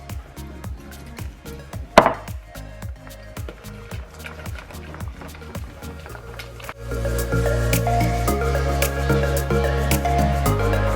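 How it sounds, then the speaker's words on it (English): Milk is whisked into a flour and egg batter for toad in the hole with quick, regular wet taps of the whisk against the bowl. Partway through, a louder, denser mixing sound takes over, close by. "I'm just going to gradually add my milk and whisk that in as well."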